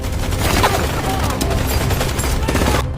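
Dense, rapid gunfire from an action film as enemy forces corner a group under a bridge during a coup, a sustained loud fusillade of overlapping shots lasting about three seconds before cutting off abruptly.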